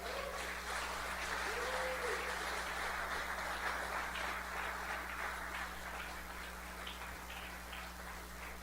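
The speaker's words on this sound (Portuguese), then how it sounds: "Aplauda Jesus então" A church congregation applauding, a dense, continuous patter of many hands that holds steady at moderate level over a low hum, with scattered voices mixed in.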